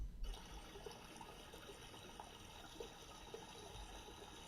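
A river flows gently beside a wooded path in an interactive adventure story, a soft, steady trickling wash that stays quiet and continuous, with no voices.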